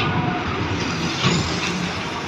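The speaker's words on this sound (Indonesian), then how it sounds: "Rombongan truk teman-teman." A convoy of trucks on a homecoming-traffic route to Aceh roars past nearby, a steady broad engine and road noise swelling slightly midway.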